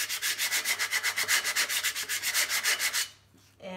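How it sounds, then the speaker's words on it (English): Fast, even back-and-forth strokes of light sanding on painted wooden drawer dividers, roughly twenty close, loud passes in steady rhythm before stopping, with a brief scrape at the end. "I'm gonna sand it and then do a second coat of paint. So just lightly sand."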